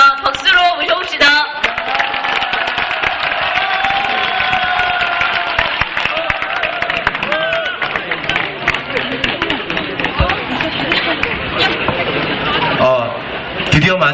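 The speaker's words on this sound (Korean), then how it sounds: "박수로 모셔봅시다." At a memorial rally for student activists, a crowd breaks into loud, sustained applause to welcome a speaker, a dense wash of clapping with cheering and crowd noise that lasts about fourteen seconds.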